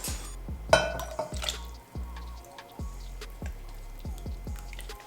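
Warm oils mixed with kaolin clay pour into liquid oils in a container, a close, soft, wet glugging with repeated drips and plops and a light clink of glass early on.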